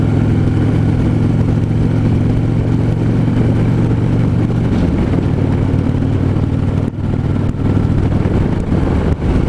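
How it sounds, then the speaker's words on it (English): A 2015 Harley-Davidson Street Glide Standard cruiser is ridden, with a loud, steady engine drone and rumble and a few brief shifts in tone along the way, heard continuously and up close with wind and no talk. "This is just a nice cruising bike."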